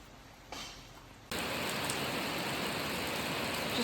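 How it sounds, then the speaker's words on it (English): Light rain at an off-grid homestead build site, a steady dense hiss of drops on surfaces that starts softly, then swells into a constant, fairly loud shower. "Just a little rain today"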